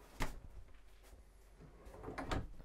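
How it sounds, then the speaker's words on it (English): Drawers in a 2024 Grand Design Momentum M-Class 414M toy hauler RV sliding open and shut, a few quick close knocks and thuds with soft rolling slides, quiet and without talk. "and then a bunch of drawers for your foldables."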